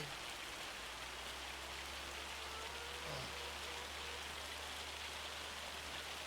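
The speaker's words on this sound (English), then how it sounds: "It's ridiculous how often they have hail on this map" Hail pours down steadily in a farming simulator game on a summer harvest map in Montana, a dense unbroken hiss of falling ice with no voices.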